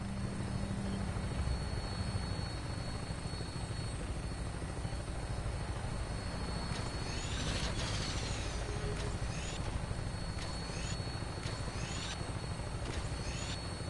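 Aircraft flight in Fallout 4: a steady, loud rotor and engine drone runs throughout, with no voices over it.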